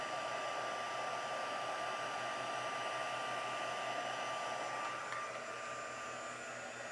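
An embossing heat tool blows a constant, even whirring hiss close by as it melts embossing powder on a handmade friendship card, with no talking.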